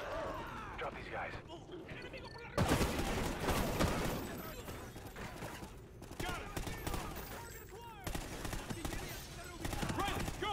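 Call of Duty Ghosts combat rings out with heavy automatic gunfire in loud sustained bursts and short pauses, mixed with clattering battle noise while voices shout over it.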